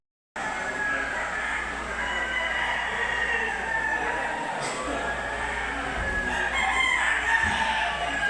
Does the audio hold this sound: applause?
no